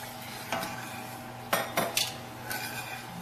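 An ube mixture with sugar is stirred in a pot, close and clear: a utensil clinks and scrapes against the pot in a few distinct knocks over a low background hiss.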